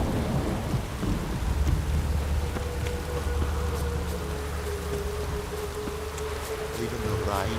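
Steady rain and low rolling thunder fill a stormy scene in The Witcher 3, a continuous dense wash with a deep rumble underneath and a faint tone running through the middle.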